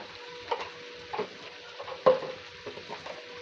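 Chilli, cumin and coriander powder being stirred in a frying pan, a faint low sizzle with several soft scraping stir strokes spaced about half a second apart, no talk.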